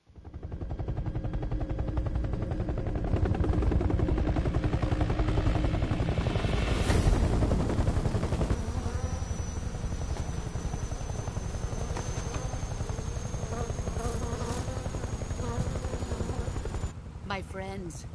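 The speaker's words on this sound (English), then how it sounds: "Hind helicopter." Hind helicopter in Metal Gear Solid Delta: Snake Eater, a loud steady rotor thrum and engine roar filling the scene throughout, mixed with bursts of gunfire.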